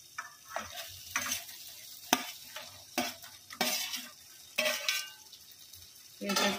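Mushroom pakoda stir-fried in Schezwan sauce in a pan, with repeated scraping and stirring strokes over a soft sizzle, close and moderately quiet, irregular rhythm with no talking.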